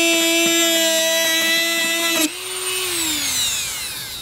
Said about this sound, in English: we're gonna take this little Dremel right here and we're going to cut a hole right here